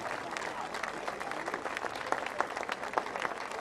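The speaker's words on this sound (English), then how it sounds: "nice round of applause for all 3 honorees" An outdoor crowd at a beach sand sculpting festival awards presentation gives a steady round of applause, fairly distant and even, with a few sharper claps near the end.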